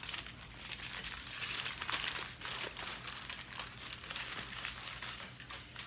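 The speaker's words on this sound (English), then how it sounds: "we're going to wrap it in the aluminum foil" A rolled log of cream cheese is wrapped up in aluminum foil, with continuous close crinkling and crumpling that rises and falls for several seconds, no talking.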